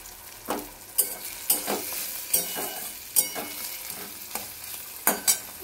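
Egg curry cooks in a pan with steady frying sizzle, broken by repeated scraping stirs of a spoon at close range; no voices.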